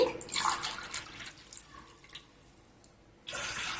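Thick milk pours into a cooking pot for semiya payasam in a short splashing stream, pauses, then resumes briefly near the end, fairly close and soft.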